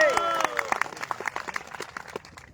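Audience applause at a political rally, heard as scattered clapping that builds into a dense patter and then slowly thins out. A voice sounds briefly at the start.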